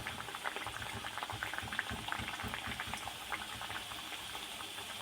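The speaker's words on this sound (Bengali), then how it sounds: "মিষ্টিগুলো দেওয়ার পরে একদমই নাড়াচাড়া করতে লাগবে না আপনা থেকেই মিষ্টিগুলো তেলের মধ্যে ভেসে উঠবে" Semolina sweets frying in hot oil give off a soft, continuous bubbling crackle, faint and even throughout with no talking.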